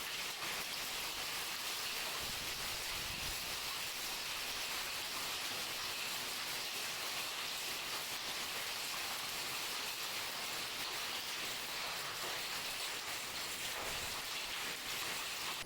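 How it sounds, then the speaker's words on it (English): Hail falls outdoors in a dense, unbroken patter, a loud steady hiss of countless impacts with no pauses and no voices. "We had some pretty bad hail"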